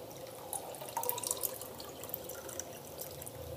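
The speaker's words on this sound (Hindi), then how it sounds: "अब इसमें जो हमने जूस बनाया हुआ था वो हम डालेंगे" Homemade shakar cola juice of brown sugar is poured into a glass, a soft close trickle and splash of liquid that rises and ebbs over a few seconds, fairly quiet, with no talk.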